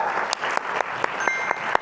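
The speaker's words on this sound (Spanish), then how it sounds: "demos un fuerte aplauso a Arturo y a Luigi" Brief applause at a conference on the future of dubbing breaks out for two invited guests, steady clapping with a few sharper claps standing out.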